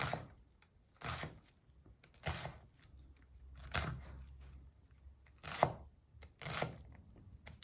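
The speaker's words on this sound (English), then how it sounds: "So what I'm doing is just cutting him very finely" A sharp knife chops finely on a board in a kitchen, with about eight quiet, separate bursts of rapid cutting spaced a second or so apart, close and alone with no talk.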